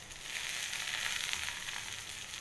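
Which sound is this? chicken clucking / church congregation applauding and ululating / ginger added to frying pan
ginger added to frying pan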